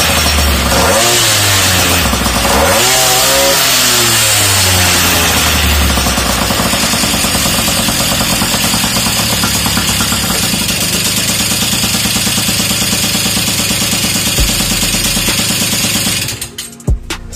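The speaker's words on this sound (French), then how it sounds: "Maintenant, on va démarrer l'engin pour le faire tourner." An MBK 51 Magnum moped engine starts with a rising whine, then revs up and down in loud swooping bursts before settling into a harsh, buzzing high idle, very close, then cuts off abruptly near the end.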